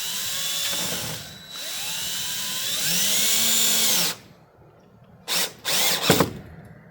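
A power drill drives 1.5-inch deck screws with flat washers through greenhouse plastic on a 20 x 20 high tunnel, whining steadily for about four seconds, then two short bursts follow after a pause.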